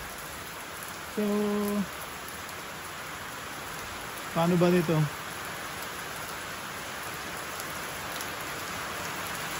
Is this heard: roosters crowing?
no